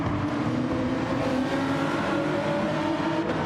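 Race car engines at the Spa circuit in a racing video game, a steady loud engine drone with layered tonal whine running continuously throughout, no pauses.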